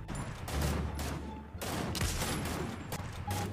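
Gunfire in the video game Fortnite: a rapid, fairly faint string of overlapping shots in bursts, with brief gaps between volleys and a dense rattling texture.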